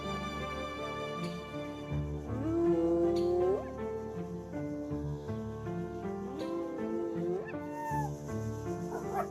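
A hyena vocalizes with a series of rising, whooping and whining calls that swoop upward in pitch, repeated several times over roughly nine seconds, fairly loud with some background sound beneath.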